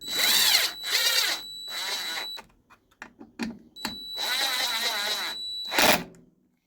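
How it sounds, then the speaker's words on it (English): Impact driver running Stihl FS 36 carburetor cover screws back in, a loud close whirring burst, a pause with small clicks and handling noise, then another longer whirring run and a brief final burst. "So I'm going to do them most of the way with the impact for the carburetor ones"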